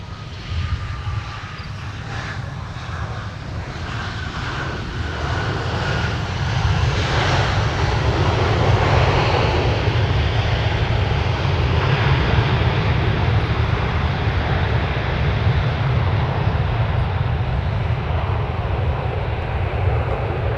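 An Aer Lingus airliner on runway 12 right at Minneapolis–Saint Paul airport roars loudly, its engines rising into a sustained, broad jet thunder that holds steady for the whole stretch, with no voices over it.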